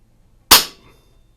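A single sharp shot from a Beeman Buck Rail 2027 air rifle carbine, a loud close crack with a short decay and near-silence on either side.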